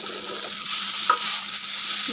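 A fish that has just been flipped fries in a pan, giving a continuous close sizzle with small pops and a faint scrape or two, steady and fairly loud with no one speaking.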